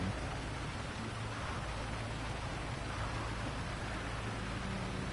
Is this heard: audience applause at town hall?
no